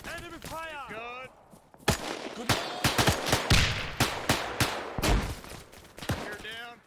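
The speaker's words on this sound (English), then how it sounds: "Enemy fire!" Rapid bursts of gunfire from a D-Day Juno Beach battle video game crack out in loud, irregular volleys, with a shouted voice at the start and more voices mixed under the shots.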